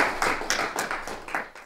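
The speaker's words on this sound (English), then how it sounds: "there you have an amazing round of applause." A small audience at a Windrush culture event in a Birmingham museum room gives a short round of applause, a brief patter of close hand claps fading out quickly.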